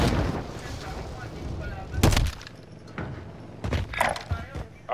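Gunfire in a military video game, heavy booming shots and blasts breaking out over a busy battle mix, with voices talking and calling out throughout.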